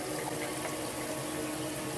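Water pours steadily into a container while sprouting seeds are rinsed, emptied and refilled, a continuous close splashing and gushing with no voices.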